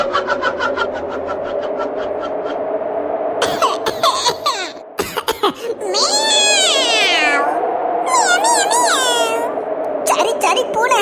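Cartoon cat meowing in a Tamil animated ghost story, a run of repeated rising and falling meows and drawn-out wails, with a short cough-like burst and shuffling sounds between them.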